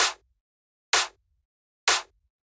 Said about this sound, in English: So yeah, and then the next sound we have here is a clap